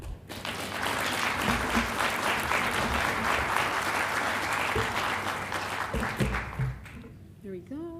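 Sustained audience applause at a Las Cruces city council meeting, steady and fairly loud clapping for about seven seconds before tapering off, with a voice speaking briefly near the end.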